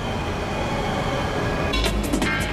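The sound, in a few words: high-speed bullet train passing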